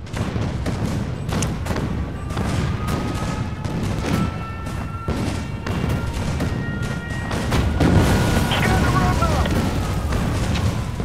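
Rapid bursts of explosions and gunfire-like blasts pound a city under attack in the video game Spore, a dense, continuous barrage that grows louder toward the end.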